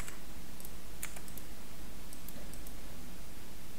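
Soft keystrokes patter on a computer keyboard in a quiet room, a few quick bursts of taps typing a question, close and faint with no voices.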